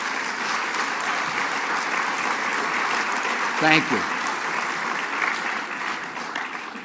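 Steady applause from an audience at a bill signing ceremony for a heroin and opioid legislative package, a dense continuous wash of clapping throughout with a short spoken thanks partway through.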